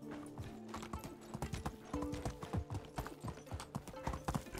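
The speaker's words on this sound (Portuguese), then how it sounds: "eu tava vindo pra cá correndo com o cavalo" A horse gallops in a video game, rapid rhythmic hoofbeats clopping steadily at close range, with faint background game ambience and no speech.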